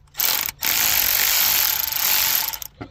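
A ratchet with a 3/8 extension works a fastener on a 2013–2018 Hyundai Santa Fe: a brief pause, then about two seconds of rapid, continuous mechanical clicking, close and clear.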